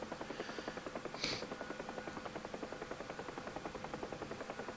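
A UH-1H Huey helicopter in the DCS flight simulator, flying heavy with cargo, its steady rapid rotor thump beating evenly and close throughout, with one brief higher click partway in.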